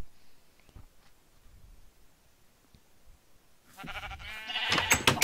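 Sheep bleat loudly and repeatedly near the end, in a backyard barn, after a few seconds of quiet rustling and faint background noise.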